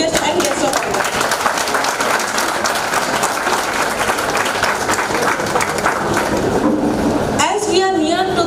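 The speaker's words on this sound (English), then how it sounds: "Let's give a round of applause to our chief guest and guests of honor." Audience applause at a conference session for the chief guest and guests of honor, a loud, steady burst of clapping from a crowd filling the hall, sustained for several seconds before tapering near the end as a voice starts talking.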